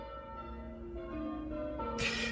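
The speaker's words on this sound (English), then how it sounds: "Historically, the ringing of bells was a call to church." Church bells ring on a Sunday morning, a sustained overlapping peal of tones fairly near, with a sudden burst of brighter noise near the end.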